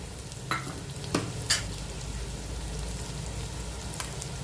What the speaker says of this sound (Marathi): 3 चमचे आगरी मसाला टाकते त्याच्यामध्ये मी. आणि ते परतून घेऊ.